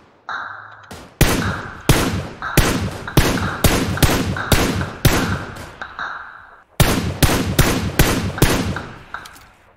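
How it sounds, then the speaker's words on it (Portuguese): Rapid bursts of gunfire in the PC battle royale game PUBG Lite, about a dozen loud, sharp shots at an uneven pace, with a brief pause before the final volley. "Pegaram tiro pra porra eles."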